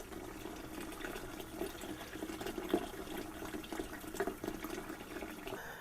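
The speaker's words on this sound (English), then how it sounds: "So you can also just fill the bowl up" Water running from a tap into a bowl to rinse berries, a faint, steady gurgling splash of filling water close by with no voices.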